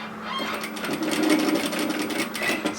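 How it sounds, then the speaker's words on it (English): A sewing machine stitches an apron pocket at an angle, running as one steady, close, continuous whir with a rapid needle rhythm across the whole stretch and no talk over it. "And now we're going to stitch at an angle back to that first stitching line."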